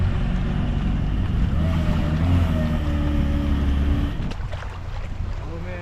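A loud, steady Kawasaki Ultra 310 jet ski engine roar with wind and water rushing over it, easing off near the end; faint voices underneath.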